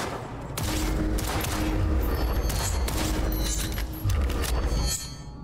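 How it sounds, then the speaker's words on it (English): Steady, loud gunfire from a shooting range in the video game Cyberpunk 2077, with rapid shots running almost continuously over the whole stretch and a short dip just before the final burst. "The shooting feels good."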